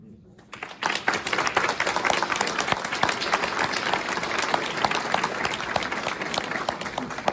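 Audience applause rises after a keynote address at a whole-health conference, beginning abruptly after a quiet second and continuing as dense, steady clapping from a sizable crowd with faint voices mixed in.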